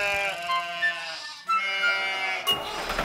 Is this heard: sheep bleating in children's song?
yes